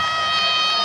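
A basketball arena crowd at a Florida State vs. Louisville college men's game cheers loudly, a dense, sustained roar with high shouts.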